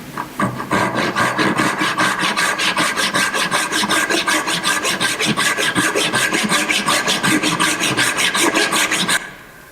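Hand saw cutting through clamped wood with an even, steady rhythm of rasping strokes, close and loud, stopping near the end.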